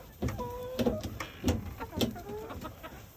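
Chickens cluck in short scattered calls from a backyard coop as the hens are let out in the evening, fairly close with some overlapping calls and brief squawks.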